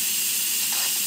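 Steam hissing as an Instant Pot's pressure is released in a boat galley, a steady broadband rush that holds level and close for the whole moment with no voice over it.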